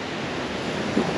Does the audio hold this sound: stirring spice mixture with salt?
no